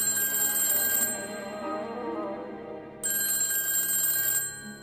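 A telephone bell rings loud and close in two bursts of bright, trilling rings, separated by a short quiet gap.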